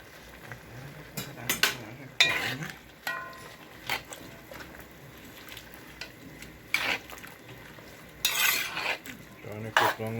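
Curry chickpeas and potato (channa and aloo) being stirred in a pot, with irregular scraping and clinking of a spoon against the metal pan over a faint simmer, loud bursts coming every second or two.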